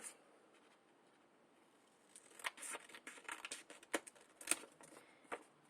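Scissors snipping through a folded paper heart template for a heart-shaped cake, heard as a faint, close run of irregular crisp cuts after a quiet start, with no talking.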